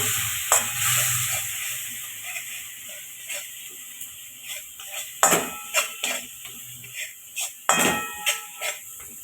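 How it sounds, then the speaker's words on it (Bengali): Masala paste of spices and Kashmiri chilli powder frying with a splash of water in a pan, a crackling sizzle broken by repeated sharp spoon scrapes and knocks against the pan. "অল্প জল দিচ্ছি মশলাটা ভালো করে কষতে নেব"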